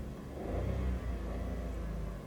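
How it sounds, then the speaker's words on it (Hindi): A 2018 Suzuki Wagon R VXL engine starts and settles into a low, steady idle rumble heard close, with a brief swell in the first second. "सबसे पहले हम की लगा के गाड़ी को जो है स्टार्ट कर लेते हैं"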